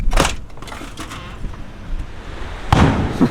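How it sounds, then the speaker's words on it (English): Fireworks set off near a Mexican campsite at night go off in sharp cracking bursts, one near the start and another near the end, with fainter pops in between against quiet background. "People are setting off fireworks, but it still sounds like freaking gunshots."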